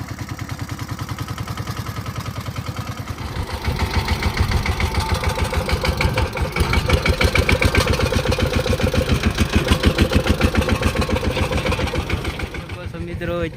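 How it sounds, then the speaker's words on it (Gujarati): A tractor engine idles with a steady low chugging, then revs up louder and faster as it is driven out on a farm, staying close and continuous throughout. "તો હાલો એ આપણને થોડુંક ટ્રેક્ટર બહાર કાઢી દે અને ત્યાર પછી મારે હાંકવાનું છે."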